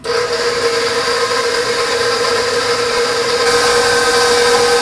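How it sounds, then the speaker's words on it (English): An electric mixer beats pistachio pudding pie filling, its motor holding a steady, high whirring whine that runs loud and unbroken throughout, close up with no talking. "now I'm going to beat that up until it's nice and thick"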